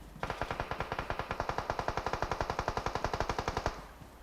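Rapid, evenly spaced automatic gunfire in the battle royale game PUBG, a loud close burst of about thirty shots lasting over three seconds before cutting off.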